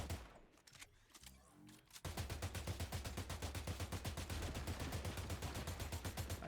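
Rapid automatic gunfire in a battle royale video game, a dense, loud burst of shots that starts abruptly after a quieter moment and continues steadily to the end.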